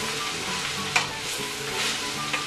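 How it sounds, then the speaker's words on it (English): Mushrooms, peppers and carrots are stirred in a pot for a sweet potato hot pot, with a steady scraping swirl over a soft sizzle and a sharper clink or two along the way. "Stir that around."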